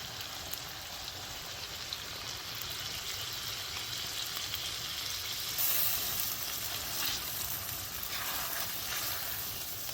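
Squid fries in a pan for squid bhuna, giving a steady, even sizzle with a rain-like patter that holds for the whole stretch, close and moderately loud, with no voices.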